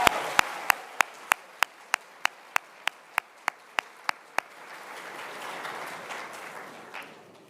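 An audience at a high school awards ceremony applauds state winners, opening with a run of sharp, evenly spaced single claps before it swells into a broader wash of clapping that tails off.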